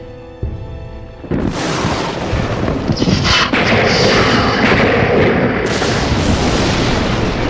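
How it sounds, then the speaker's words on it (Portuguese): Lightning striking a tree makes its bark explode. A quiet tonal musical passage gives way to a sudden loud crack and then a sustained, roaring, rumbling blast that stays loud to the end. "vaporizando a seiva e fazendo a casca explodir como uma granada"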